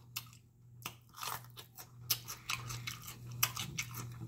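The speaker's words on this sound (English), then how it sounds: "Want some jalapeno? You want some? Bite it. Bite it." Crunchy bites and chewing on a raw jalapeno pepper during a barbecue bologna eating session, close and moderately loud, with repeated crisp crunches and wet mastication over a low steady hum.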